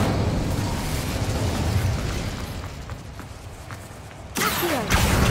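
An Incendio fire spell is cast in Hogwarts Legacy, giving a loud burst after a steady rushing ambience, with a second surge toward the end, no talk over it.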